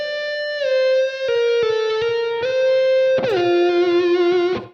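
Electric guitar with effects plays a slow legato lick from the D natural minor scale, sustained notes joined by smooth slides, bends and pull-offs, loud and close with no talking.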